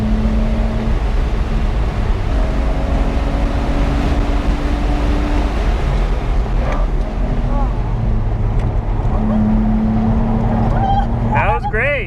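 A BMW E46 325Ci racing a lap at GingerMan Raceway, its engine droning loud and steady throughout with shifting pitch as it climbs and drops through the gears, wind buffeting the interior microphone.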